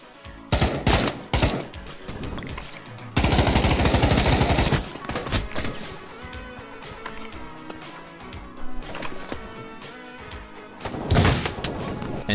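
Virtual-reality Counter-Strike bot deathmatch gunfire: rapid bursts of shots and a sustained stretch of automatic fire, with thuds and impacts in between, loud and close.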